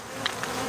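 Honeybees buzzing around an opened hive during a honey harvest, a steady close insect drone that holds through the short moment with no voices.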